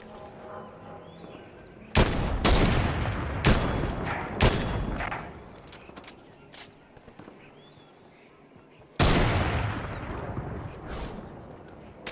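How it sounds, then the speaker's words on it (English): A video game plays a scattered volley of sharp gunshots, several quick cracks in a burst and then a louder single blast later, with quieter background ambience between them. "I'm hearing gunshots."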